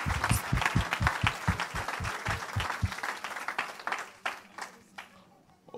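A church congregation applauds, with rhythmic unison clapping for about three seconds that then breaks into looser scattered clapping and crowd noise before fading.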